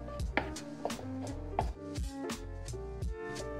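Egg yolks being mixed into cooked short-grain Japanese rice, a series of soft rhythmic scraping and thudding strokes of a spoon against the bowl, close and fairly quiet.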